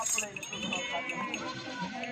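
Goats with their young bleat at a goat sale, several close calls overlapping amid background chatter and noise.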